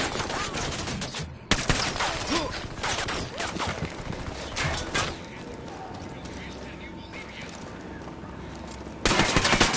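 Sniper and other gunfire in Ghost Recon, a rapid series of loud sharp cracks and bursts through the first half, then quieter ambience before another loud burst of fire near the end.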